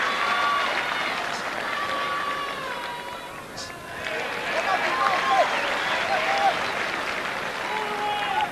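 A stadium crowd at the 1987 Rugby World Cup match between Tonga and Wales applauds an injured Tongan player leaving the field, a sustained wash of clapping and crowd noise under steady commentary.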